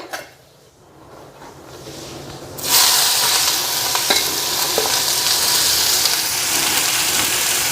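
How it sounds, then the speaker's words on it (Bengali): Cauliflower pieces dropped into hot oil burst into a loud sudden sizzle after a quiet start, then keep frying with steady crackling and occasional stirring clinks against the pan. "তেল গরম হয়ে গেছে এখন ফুলকপিগুলি দিয়ে দিই"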